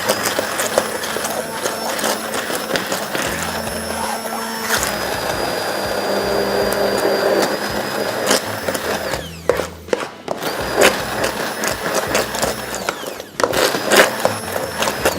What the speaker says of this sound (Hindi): हैंड ब्लेंडर ले लिया